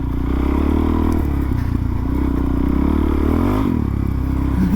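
An old, beat-up supermoto motorcycle ploughing through mud, its engine revving and bogging in loud uneven bursts with clattering and scraping over a continuous rough drone, close up.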